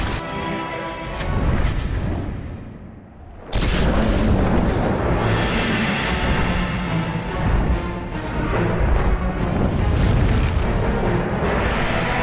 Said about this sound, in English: Explosive shot.